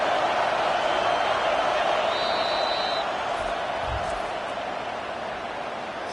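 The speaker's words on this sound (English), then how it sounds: "Decibels rising as the crowd gets behind this defense on third down." A roaring football stadium crowd swells and holds as the Penn State defense faces third down against Wisconsin, a constant wall of noise with a commentator talking over it.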